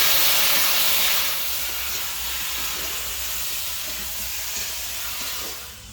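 A paste of ginger, cumin and dried chili fries in a hot pan while being stirred, giving a loud steady sizzle and hiss that eases off toward the end.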